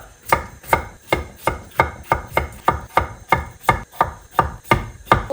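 A knife chops potatoes into even pieces on a cutting board, giving a steady run of about fourteen crisp, evenly spaced thuds, loud and close, with no speech.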